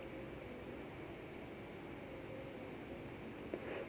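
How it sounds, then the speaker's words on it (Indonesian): Electric blender grinding chili spice paste with dried shrimp for chili oil, a steady even whirring drone heard fairly faintly with no talking. "Kita blender sampai semua bumbunya halus."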